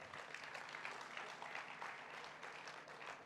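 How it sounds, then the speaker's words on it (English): Dense, steady audience applause fills a gala hall at a 2015 LGBTQ-equality fundraising dinner in Portland, a continuous wash of many hands clapping at moderate distance and fairly low level, with no voices standing out. "Let's give that a round of applause."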